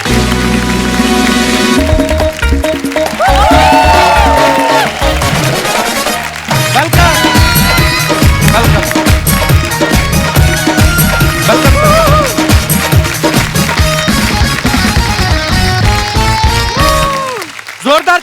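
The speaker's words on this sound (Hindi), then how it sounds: "जोरदार तालियों के बीच प्लीज वेलकम गायत्री एंड" Studio audience on The Kapil Sharma Show clapping and cheering loudly as guests walk on, sustained applause under a band playing music throughout.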